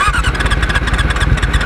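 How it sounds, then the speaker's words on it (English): A 2001 Yamaha YZF R6 with heavy blow-by revs in neutral, giving a short, loud, close burst of rapid, pulsing engine firing. "Now, if in neutral, it does rev."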